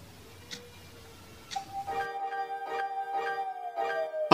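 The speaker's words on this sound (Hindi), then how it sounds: "अभी पीछे गाड़ी की टिक टिक की आवाज़ आ रही है, आप सुन सकते हैं" A steady, clicking tick-tock of a car indicator, evenly spaced and fairly close, with no one talking.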